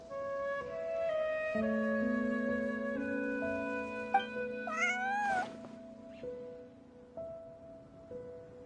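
A cat meows in Genshin Impact: a single clear, rising meow rings out over soft sustained musical tones from the game's soundtrack, close and distinct.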